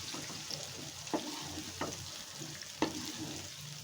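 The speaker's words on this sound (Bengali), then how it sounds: "এই তেলেই আমি বেগুনগুলোকে ভেজে নেব।" Cut bitter gourd and potato sizzle and crackle in hot mustard oil in a pan for sarse karola chorchori, with a steady frying hiss and a few sharp spatula scrapes and clinks while being stirred.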